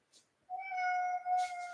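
A domestic cat gives one drawn-out, rising meow close by, loud and clear against a quiet room, with a brief soft rustle before it.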